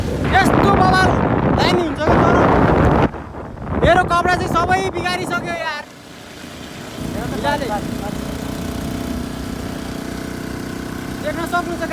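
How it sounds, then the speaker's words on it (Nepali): Strong wind buffets the microphone outdoors during a ride, roaring in gusts under loud talk and laughter, then a steady low rumble continues after the voices fade. "यस्तो बवाल हावा आउँछ"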